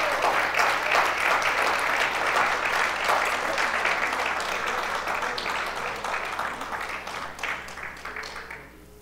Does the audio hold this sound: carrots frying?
no